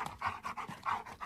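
A dog pants quickly and rhythmically close by, steady breathy huffs at a brisk pace, heard alone as a sound effect in a radio drama.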